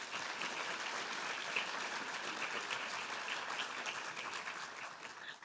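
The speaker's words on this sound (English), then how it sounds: "So please give a round of applause to the planning committee." Sustained applause from an audience at a public servants merit awards ceremony, steady and evenly dense for the whole stretch before thinning slightly at the end.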